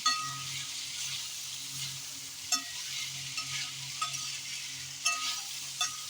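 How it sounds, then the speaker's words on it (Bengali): A constant sizzle of puffed fritters (pudli) frying in oil fills the background while a spoon or spatula knocks against the pan every second or so. "গোপালের সেবার জন্যে পুদলি ভাজা হচ্ছে পুদলি ভাজা"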